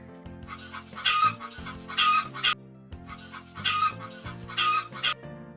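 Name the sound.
hen clucking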